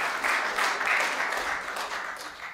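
An audience at a Hindi comedy poetry gathering applauds as a poet is welcomed to the stage, with steady, dense clapping that holds at an even level for a couple of seconds and no talk over it.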